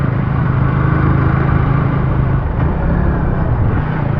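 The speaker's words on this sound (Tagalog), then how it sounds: "Lahat ng motor ko, tercero, umakakayat." A Yamaha R15M motorcycle climbs a slope in third gear, its engine humming loud and steady at close range with no voices.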